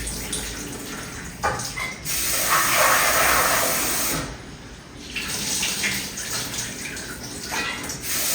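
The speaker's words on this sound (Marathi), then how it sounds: "हे दोन तीन पाण्याने स्वच्छ धुवून घेते" Chickpeas being rinsed in water, giving a continuous splashing, running-water wash that swells in the middle, dips briefly, then resumes, with no talking.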